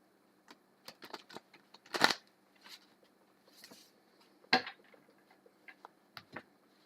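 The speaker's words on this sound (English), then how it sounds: "Give them a good cut, good shuffle." Tarot cards are shuffled and cut in soft, scattered clicks and riffles, with a couple of sharper snaps, close by and quiet.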